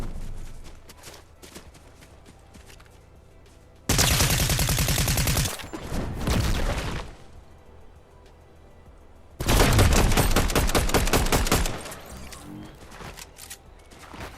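Bursts of automatic gunfire in a competitive shooter video game, two long loud volleys of rapid shots separated by quieter stretches of distant firing and game ambience.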